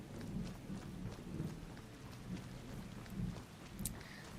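Steady rain with rolling thunder in a video game: continuous patter under low, rumbling thunder that swells several times, with a faint brief chime near the end.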